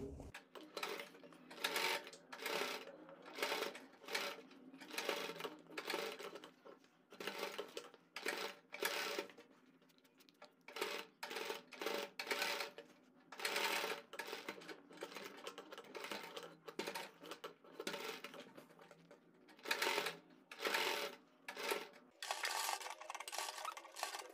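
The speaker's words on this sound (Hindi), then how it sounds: "इसे पूरी गोलाई में ऊपर से नीचे तक सिलाई से अटैच करेंगे" A sewing machine stitches a frill onto a dress neckline in rapid, continuous runs, broken by brief pauses and restarts, close and clear, with no talking.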